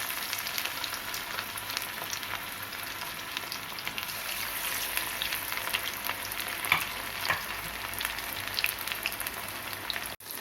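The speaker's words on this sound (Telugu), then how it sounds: "డీప్ ఫ్రై చేసుకోవాలండి" Fish pieces deep frying in hot oil, a steady bubbling sizzle with scattered sharp crackles and pops, fairly quiet and continuous with no talk.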